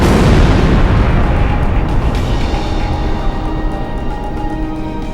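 A huge, rumbling explosion erupts as AA guns are destroyed in Ace Combat Zero. The blast starts loud and deep, then rolls on as a long, slowly fading roar.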